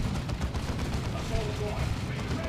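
Bolt pistols fired by Assault Marines sheltering in cover in a Warhammer game, rapid overlapping shots in a dense crackling burst under a speaking voice.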